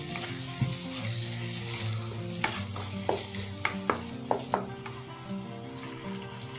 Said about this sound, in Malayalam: കുറച്ച് ശർക്കര പൊടിച്ചത് ചേർത്ത് കൊടുക്കാം. അതൊന്ന് മിക്സ് ചെയ്യാം.